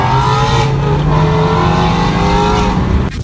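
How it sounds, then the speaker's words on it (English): Loud, close car engine holding a steady, throaty rev, with a constant tone running throughout and no one talking. "anytime I see a nice car, it's not uncommon for me to like roll down my window so I can hear it"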